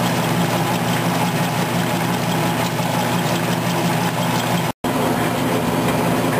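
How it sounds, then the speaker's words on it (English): An oilseed screw press driven by a 10 horsepower single-phase motor, a loud steady mechanical hum and drone that runs on without letup, broken by a short gap of silence near the end. "We're running a 10 horsepower single phase motor."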